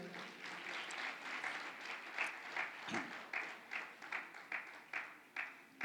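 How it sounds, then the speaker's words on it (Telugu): A church congregation at a New Year's Eve watch night service claps together in a steady rhythmic beat, the applause fairly distant and soft, building in clear repeated pulses. "గట్టిగా క్లాప్స్ కొట్టండి ఒకసారి."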